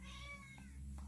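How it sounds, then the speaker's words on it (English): A pet cat named Lucy gives one drawn-out, wavering meow indoors, faint and close, over a low steady background hum. "Lucy, that's my cat meowing"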